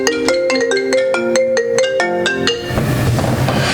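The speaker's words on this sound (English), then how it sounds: "I'm going to having a phone call come in." A phone ringtone for an incoming call plays a bright, repeating melodic pattern of quick tones for a couple of seconds, then cuts off into a short noisy wash as the call is declined.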